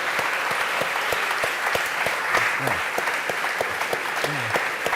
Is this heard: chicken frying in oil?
no